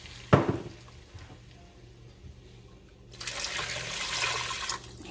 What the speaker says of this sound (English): Then we're pouring our water.